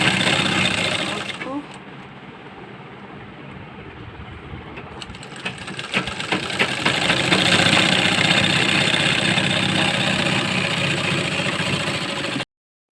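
A sewing machine stitching a boat neck kurti runs with a fast mechanical whir, quieter at first, then louder and steady for several seconds before stopping abruptly.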